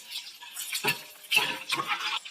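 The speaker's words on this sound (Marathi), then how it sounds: "अंड्यांचा हलका कलर चेंज होतो पर्यंत अंडे आपण असेच फ्राय करून घेऊ फ्राय पॅन मध्ये." Eggs fry in a frying pan while cooking for chicken biryani, soft bursts of hissing sizzle and crackle rising and falling in short waves, quiet and close with no talking.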